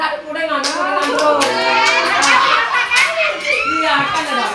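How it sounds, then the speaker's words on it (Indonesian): Children clapping their hands in quick bursts of slaps mixed with lively kids' voices chattering and calling out, close and busy, part of a counting clap game. "Ada tepuk tangan bro."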